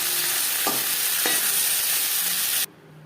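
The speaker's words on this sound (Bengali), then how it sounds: "মাছের মাথা ভেজে নেওয়া কড়াইতে আবারও তেল দিয়েছি। দিয়ে দিলাম তেজপাতা, 5 ফোড়ন।" Bay leaf and five-spice seeds frying in hot oil in a wok used earlier to fry fish heads, a steady loud sizzle with a couple of sharp crackles, cutting off abruptly near the end.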